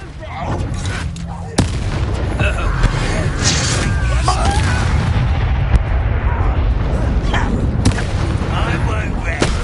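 A fiery Confringo blast spell erupts in a wizarding video game battle: sharp booming bursts over a steady, dense roar of combat noise, with voices talking throughout.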